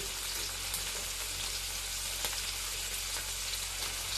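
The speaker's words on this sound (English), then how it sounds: "Yes, the frying sound is definitely ASMR." Food fries in a pan with a steady, close, even hiss of sizzling oil, punctuated by a few faint pops, and no voices present.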